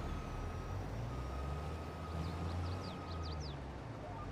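A truck in Farming Simulator 22 hums steadily while a run of about eight quick reversing beeps chirps in the middle, set a little back in the mix.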